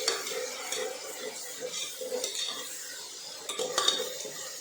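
Ginger garlic paste being sautéed in a pan for a Chettinad-style mushroom biryani: a spoon scrapes and stirs steadily against the pan over a soft sizzle, close and continuous.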